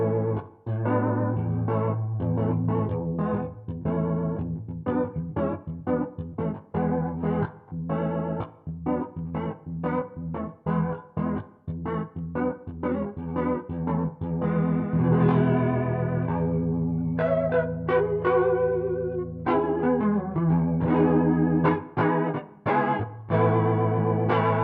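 A Zoom GFX 707 guitar multi-effects unit on its old vibrato setting gives a warbling, Hammond-organ-like tone to continuous chorded and picked playing, loud and sustained throughout with no talking.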